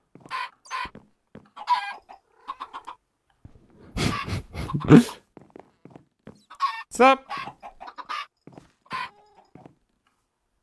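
Chickens clucking in the Minecraft video game, short bursts of clucks recurring through the clip at moderate loudness, with someone speaking in between.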